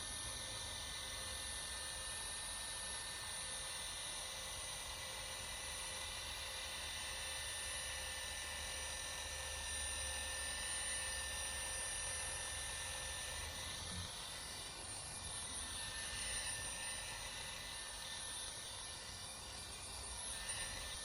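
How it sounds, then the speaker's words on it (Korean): An SPTA cordless polisher works the paint of a Mercedes car at a medium speed setting with light pressure. It gives a continuous, close, droning whir with slight fluctuations for about twenty seconds. "SPTA 무선 폴리셔 기준으로 보통 4단으로 작업하며 가압도 약간 줘가면서 운용합니다."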